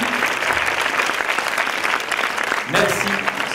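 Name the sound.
applause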